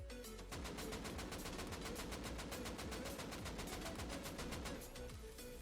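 An AK rifle in the video game Rust empties a full magazine in a long-range spray, a rapid, steady stream of loud automatic shots lasting about five seconds with no talk.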